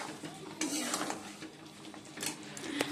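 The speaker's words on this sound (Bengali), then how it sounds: "চিকেনটা বসিয়ে দিয়েছি, ভালো করে কষিয়ে নিই" Chicken sizzles in a pan as it is fried and stirred, the soft frying hiss broken by clinks and scrapes of a spoon against the pan in brief irregular bursts, close by and fairly quiet.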